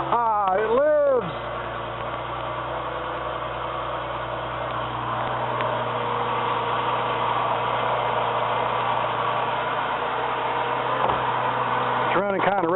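A car engine running rough just after an engine transplant, idling steadily with an uneven low rumble, close and continuous; brief squealing sweeps at the start and end, with someone talking over it.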